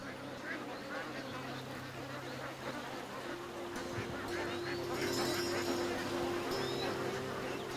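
Many farmed ducks in Kerala, India quack in a busy, continuous chorus while a voice narrates over them.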